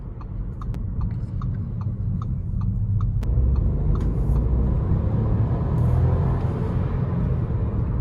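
Small three-cylinder engine of a 2021 Audi A3 Sportback 1.0 TFSI 110 hp, a steady low rumble heard from inside the car, growing slightly louder partway through, with faint ticking on top and no talk.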